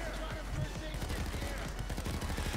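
Automatic gunfire in the video game Payday 2 rattles off as rapid, continuous bursts, fairly quiet and dense, with voices talking underneath.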